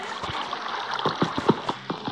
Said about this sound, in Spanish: Se escucha agua.